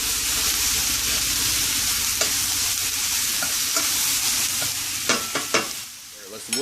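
Seasoned food fries in a pan and gets stirred, giving a loud steady sizzle with scraping and a cluster of clinks near the end, close up and with no speech.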